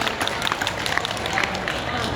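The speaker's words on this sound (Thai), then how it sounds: "ขอเสียงปรบมือให้กับทั้งสองพันด้วยนะคะ" A crowd at a comic convention interview claps for two performers, giving a dense, continuous patter of applause with talking over it.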